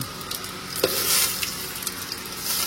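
Tempering spices crackle and spatter in hot oil on a low flame, with close sizzling, scattered sharp pops and light stirring, heard alone without speech.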